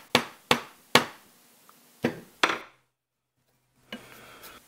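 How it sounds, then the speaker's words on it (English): A chisel clears waste wood from a narrow channel in a handmade wooden rabbet plane body: five sharp, close knocks with quick decays, a pause, then a short scraping rub. "use my chisel to remove the waste"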